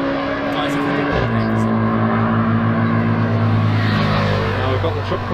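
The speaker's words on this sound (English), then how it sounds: "Now we've got the truck coming out as well" A truck pulls out of an industrial facility, its engine a steady low rumble that shifts pitch and builds as it moves off, loud and continuous with a voice talking over it.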